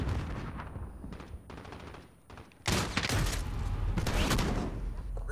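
Gunfire in Call of Duty Modern Warfare: after a quieter stretch of scattered shots, a dense burst of loud, rapid blasts erupts in close succession, continuing with ongoing crackling fire.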